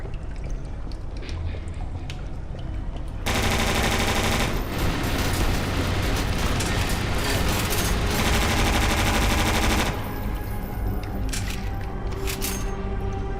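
Heavy gunfire in the game E.Y.E. Divine Cybermancy, a thick, continuous volley of shots lasting around six seconds over steady game ambience, then dropping back to scattered cracks.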